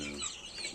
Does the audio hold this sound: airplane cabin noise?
no